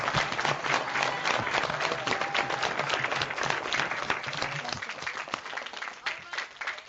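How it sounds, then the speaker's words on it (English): Students applauding Pro Football Hall of Famer Chris Doleman through unmuted microphones, a dense, uneven patter of many hands clapping at once, steady and fairly loud, thinning slightly toward the end. "join me and unmute your microphones and give them a round of applause"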